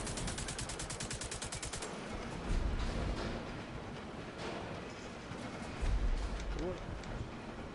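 An SR1 rifle fires in The Division 2, with rapid repeated shots in the opening two seconds followed by heavier sporadic bursts and booms, beneath talking voices.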